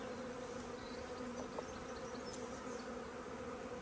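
Honeybees buzz around an open hive during an inspection, a dense, steady swarm drone close by at low volume with a few brief knocks over it.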